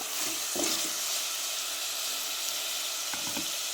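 Onions sautéing in a clay pot for fenugreek kuzhambu, a soft continuous hiss of frying with a couple of brief stirring scrapes, close and moderately quiet.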